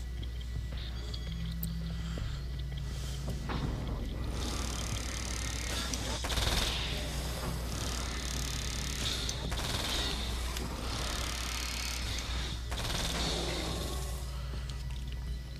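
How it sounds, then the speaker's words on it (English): SMG fire in the video game Alan Wake's American Nightmare, several rapid bursts of submachine-gun shots over a steady low game ambience, with occasional mechanical clicks and brief player talk. "Man, I love the SMG."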